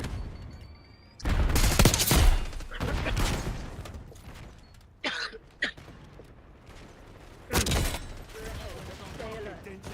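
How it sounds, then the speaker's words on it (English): Bursts of distant light machine gun fire crackle through a video game match, loud irregular volleys separated by quieter gaps, with a voice talking and some coughing or throat clearing mixed in. "these dudes are in the back of the map just letting off LMGs"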